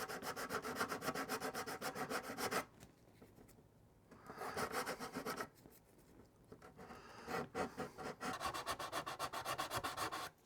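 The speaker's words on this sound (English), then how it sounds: "Able to fit the sanding stick in here." A sanding stick rubs against a small plastic part of a U.S.S. Reliant model kit, close and steady, in bursts of rapid back-and-forth scraping separated by short pauses.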